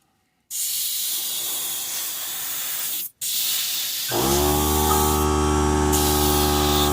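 A compressor-driven spray gun hisses steadily as it lays an even coat of silver paint, with a brief stop midway, and then a loud humming compressor motor kicks in under the spray.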